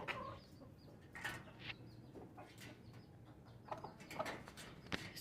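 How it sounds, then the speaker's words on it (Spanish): A broody hen makes soft, low clucks and murmurs as if sitting on eggs, quiet and intermittent, with a few sharper calls toward the end. "Le hace como cuando las gallinas están empollando"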